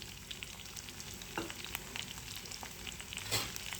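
Upma ingredients with drumstick leaves fry steadily in hot oil, a soft continuous crackle with a few sharper spatters and clinks near the end.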